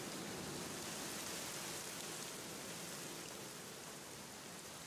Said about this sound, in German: vielleicht genießt er auch den Regen